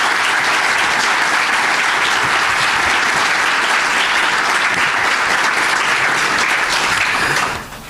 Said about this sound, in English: Please give Prof. Draai a warm round of applause